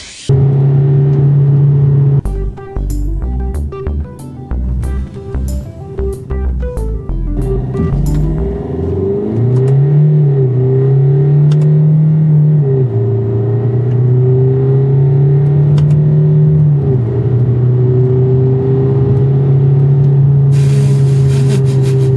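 A car with a failing gearbox and steering-wheel paddle shifters revs hard while held too long in second gear. Quick clicks come first, then a loud, sustained engine drone whose pitch climbs, dips and holds.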